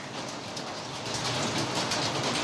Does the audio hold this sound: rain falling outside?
yes